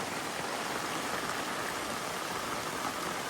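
A downpour of heavy rain keeps up a constant broadband hiss, close and uniform, with no pauses and no voices.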